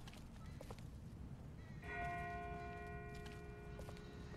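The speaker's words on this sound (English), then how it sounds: "That's not the same bell as before. This one's further off." A distant bell rings in The Walking Dead video game, a single sustained toll that hangs and slowly fades far off, heard alone under a low ambient rumble.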